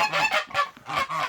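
Geese on a breeding farm honk loudly and close by in a run of harsh, nasal calls that overlap in a continuous clamor.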